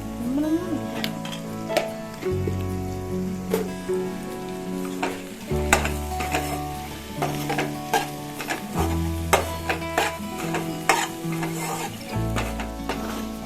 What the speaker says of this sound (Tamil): இன்னும் கொஞ்சம் எண்ணெய் சேர்த்துக்கிட்டு நம்ம நல்லா சுருளை எடுக்கலாங்க